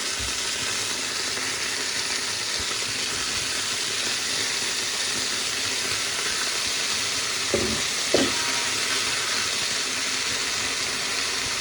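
Jerk prawns fry in a hot pan with a steady, close sizzle and crackle, a broad hiss running through the whole stretch, and a couple of brief stirring clatters near the end.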